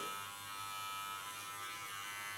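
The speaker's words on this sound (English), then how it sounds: "Leaning only on the tip of my clipper, so not on the total blade." An electric hair clipper, only its blade tip touching, trims a clean contour line along the hair, giving a steady, close, unbroken buzz.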